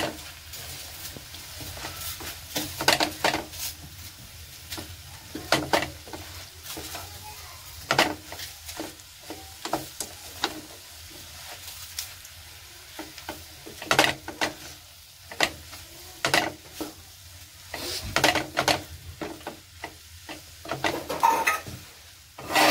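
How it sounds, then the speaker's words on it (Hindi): Okra and tomato are stirred in a pan with turmeric, chili and other dry spices, giving repeated scraping and clinking strokes in irregular bursts against a faint background sizzle, with no talking. "और ये मिक्स कर दिया मैंने"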